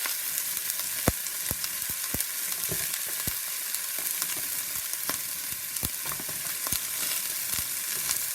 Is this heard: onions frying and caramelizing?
yes